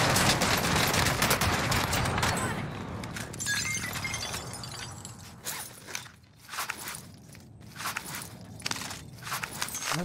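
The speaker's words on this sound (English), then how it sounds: "Allied precision airstrike incoming" Precision airstrike in Call of Duty Modern Warfare, a dense burst of rapid explosions and crackling gunfire that rumbles loudly at first, then thins into scattered blasts and debris clatter.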